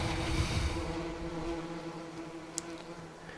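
Steady insect-like buzzing from bees in the farming game Farming Simulator 17, a continuous droning hum holding at even loudness throughout, with a brief brighter tick near the end and no talking.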